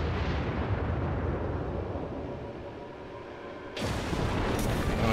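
Battleship Fuso's main guns fire in World of Warships, heard as a deep rumbling blast that fades, then a sharp, loud new burst near the end.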